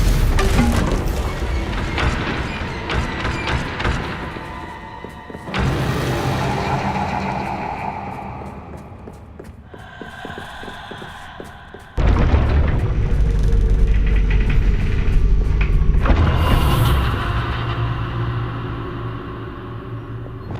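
Magical blasts and booming explosions from the Bombarda spell in the Hogwarts Legacy game, a run of loud crashes and rumbling bursts broken by short quieter gaps.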